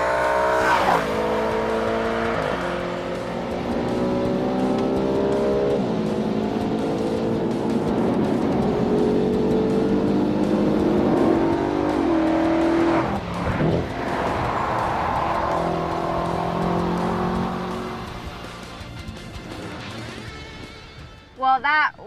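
A sporty car with paddle shifting revs and accelerates hard on a test drive, its engine note climbing through successive gears in long rising sweeps, loud and close, with a brief tire chirp before it quiets at the end.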